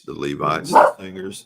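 A dog barks and yips briefly while a person reads aloud, the short excited bursts overlapping the steady speaking voice at close range.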